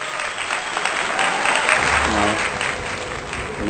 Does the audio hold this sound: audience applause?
yes